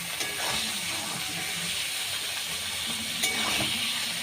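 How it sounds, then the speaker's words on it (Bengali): Chicken pieces frying in hot oil with onions in a pan for a chicken curry, giving a steady hiss and sizzle with faint crackles and no talk. "এর মধ্যে মাংসটা আমি দিয়ে দেব মাংসটা এখন দেওয়া হলে মাংসটা তেলের মধ্যে একটু ভাজা হবে"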